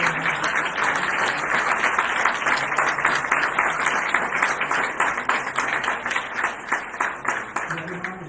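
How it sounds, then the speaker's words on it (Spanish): Audience applause closing an engineering conference on artificial intelligence in geophysics, a steady, sustained clapping from a seated crowd lasting the whole stretch at moderate volume. "Tenemos un aplauso para empezar"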